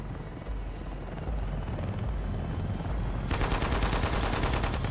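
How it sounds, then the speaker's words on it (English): Helicopter in the Shadow of the Tomb Raider video game, a steady rotor drone building over the clip, joined partway by rapid rhythmic chopping blade pulses, loud and close, with no talk. "It's a chopper!"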